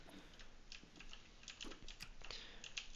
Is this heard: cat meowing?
no